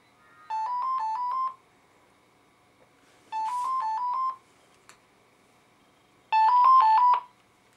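Three separate bursts of rapid electronic phone tones, each a quick run of stepped beeps, sound clearly with short silent gaps between them, like a telephone dialing or ringing for a call found in the phone book.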